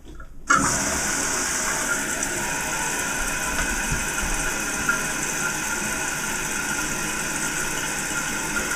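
A Kohler toilet tank starts refilling as the water supply is turned back on: a sudden hiss of rushing water begins after a short silence and continues steadily and close by without pause.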